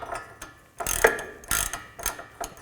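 Ratchet with an 18mm socket tightening a castle nut on a tie rod stud of a 2011-2014 Chrysler 200, giving several short, close bursts of clicking with pauses between them.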